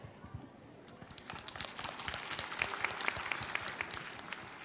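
Applause from a graduation ceremony audience begins as a few scattered claps and swells into a fuller, crisp round of clapping that stays fairly close and builds steadily.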